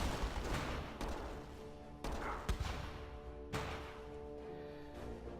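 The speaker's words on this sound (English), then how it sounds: "Let's see if I can get this with artillery." Artillery fire in the strategy game Battle Islands Commanders, heard as several heavy, booming blasts spaced a second or so apart over a dense, rumbling battle background.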